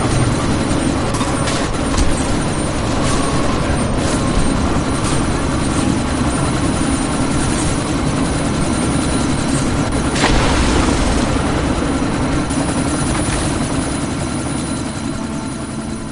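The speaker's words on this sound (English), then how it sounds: "you need to disable that chopper" A helicopter in the video game Deus Ex thuds loudly and continuously, its rotor beating in a dense, close, steady roar with a gritty wash of noise that fades slightly near the end.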